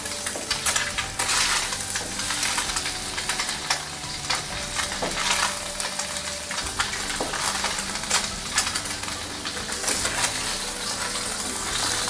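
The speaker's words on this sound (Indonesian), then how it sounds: "Gunakan api sedang saja, goreng pelan-pelan ya." Tofu and egg frying slowly in oil over medium heat, a steady close sizzle and crackle that runs throughout with occasional clinks of a utensil stirring and turning the pieces.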